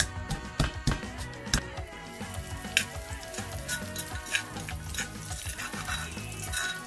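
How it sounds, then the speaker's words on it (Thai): Pounded chili and black pepper paste hits hot oil for a Thai minced-beef basil stir-fry, giving a loud, steady sizzle and crackle with scraping stir strokes and occasional clanks, no talking. "ที่ตำเมื่อกี้ก็ใส่ลงไปในน้ำมันซึ่งร้อนหน่อยๆแล้ว"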